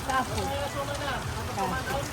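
Heavy rain falls during outdoor shopping, a dense continuous patter and hiss with people talking over it throughout.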